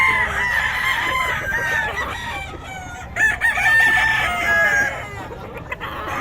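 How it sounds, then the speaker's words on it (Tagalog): Roosters crow and chickens cluck at a busy poultry market in Bocaue, with several overlapping calls rising above a steady crowd murmur. "Gulo ng manok."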